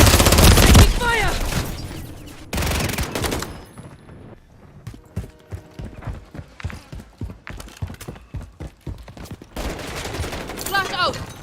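Gunfire in the game Call of Duty MW3, with loud bursts at the start and later, between stretches of rapid sharp cracks and clattering shots at moderate level and a brief voice in between.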